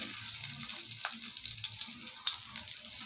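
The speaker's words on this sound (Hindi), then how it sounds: "इसमें हम लोग ये जो अनियन है, टोमेटो है, और थोड़ा सा अदरक लहसुन है वो थोड़ा सा भून लेंगे।" Onion, tomato, ginger and garlic fry in oil for an aubergine curry, a soft continuous sizzle with crackles and light stirring knocks, close but fairly quiet.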